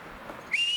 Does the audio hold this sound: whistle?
yes